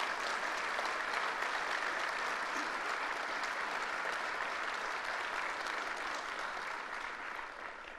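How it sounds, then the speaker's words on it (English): Steady, dense applause from a crowd at a government announcement event in Schenectady, filling the whole stretch evenly and tapering slightly at the end, with no voices over it. "Let's give the mayor and Ray a round of applause for their good work."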